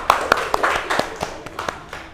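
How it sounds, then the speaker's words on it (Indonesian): A small classroom audience at an elementary school claps in quick, slightly uneven bursts. Sharp, close hand claps repeat about every quarter second over a faint background murmur. "Oke, tepuk tangan."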